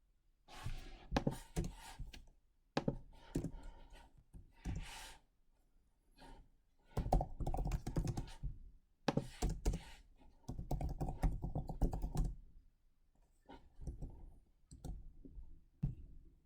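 Keys clatter on a computer keyboard as a web address is typed into a browser, bursts of quick close clicks separated by short pauses, with no talking.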